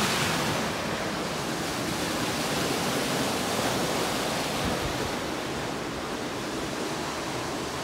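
Steady rush of water pouring through an open gate onto a watermill wheel, a continuous broadband noise that stays loud and even throughout, with no voices.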